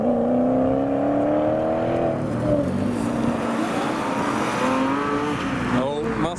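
Ferrari Boxer Spider and Gran Turismo supercars driving past on a road leaving a car show, a loud engine note that rises in pitch, then tails off into a blur of passing noise, with wind buffeting.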